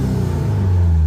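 A 1972 Toyota Corolla TE28 engine with carburetor trouble runs steadily, a loud low rumble close by with a slight rise in pitch, no voices.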